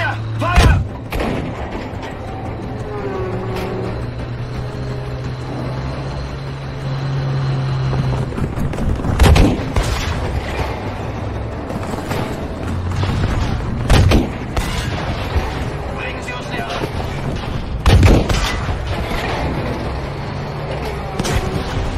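Heavy tank cannon booms and scattered gunfire in the Battlefield V campaign, several loud thudding blasts spaced every few seconds over a rumbling engine and battle din, with voices calling out at times.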